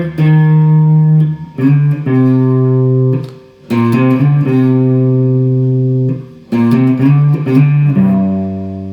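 Electric guitar riff, played slowly and loud on its own, with sustained notes in several phrases separated by short gaps.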